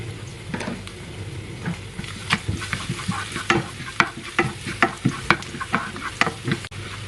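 Garlic stir-fried in a pan for a cabbage and crispy pork dish: a steady sizzle broken by rhythmic scraping and clinking of a spatula against the pan, close and fairly loud, with no talk.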